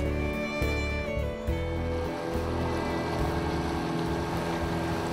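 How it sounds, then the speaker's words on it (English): A motorboat on the river at Barmah, its steady engine drone under continuous hull and water wash, close and constant throughout, with a brief dip in level partway through. "it was a fine day for a boat ride"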